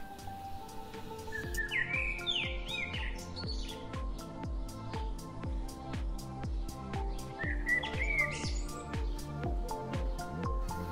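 Birds chirp at a wetland bird reserve in Sweden, with bright twittering calls in two bursts over a steady rhythmic pulsing background of music.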